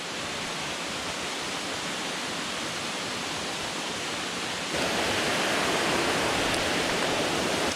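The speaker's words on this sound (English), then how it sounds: "The waterfall going up this way," Khun Si Waterfall on Koh Samui, Thailand pours in a continuous, dense broadband roar, loud and close, swelling slightly stronger partway through with no voices present.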